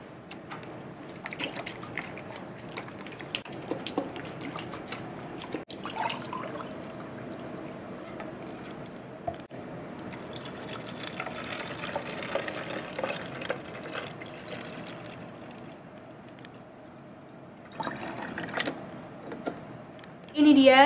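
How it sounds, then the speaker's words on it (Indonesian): Disinfectant liquid is poured into plain water to make one liter and then shaken, with a continuous splashing, sloshing pour and a few louder shakes near the end. "Sekarang campurin cairannya ke air putih tadi. Tuh, jadinya 1 liter. Terus dikocok."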